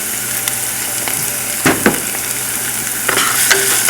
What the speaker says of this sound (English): Watch all the sizzling stop.